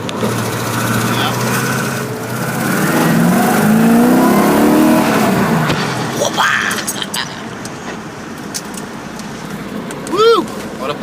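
Engine of an AMC AMX with a big 4-speed manual revs and pulls hard through the gears, loud and close for several seconds before easing off under lighter engine noise.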